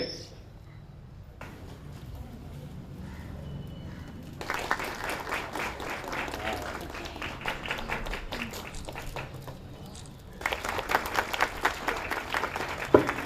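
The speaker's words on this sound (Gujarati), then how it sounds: "તાળીઓ ચાલુ રહેવી જોઈએ" Audience applause at an Ayush health fair held by the district panchayat in Rajpipla: a crowd's dense clapping swells in midway, then grows louder and sharper toward the end after a quieter, murmuring start.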